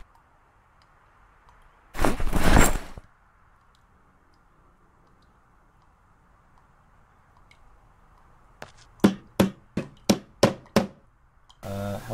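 Hammering with a hammer in the video game Project Zomboid: one heavy thud, then after a long quiet stretch a quick run of six or so sharp, evenly spaced knocks.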